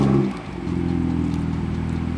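A BMW M2 fitted with a loud aftermarket intake, driving with a steady deep engine drone after a brief louder burst at the start, close and continuous.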